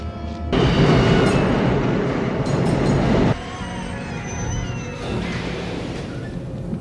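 Chicago subway train in motion, a loud rumbling ride with rattling carriage noise that suddenly drops quieter midway, then a screech of wheels toward the end.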